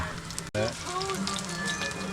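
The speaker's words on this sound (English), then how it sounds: "cooking deep fried food in a frying pan can definitely be a bit time consuming" Steady hiss and crackle of food frying in hot oil, continuous and close, with a brief sharp break near the start.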